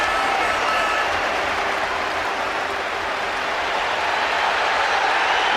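A football crowd at Highbury stadium, Arsenal's ground, keeps up loud, continuous applause in a dense, even roar of clapping and cheering from a huge stand throughout.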